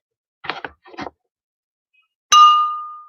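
A single bright bell ding rings out at a virtual pub quiz to mark the end of a round, loud and clear with a long ringing decay, after a few short vocal sounds and a moment of silence.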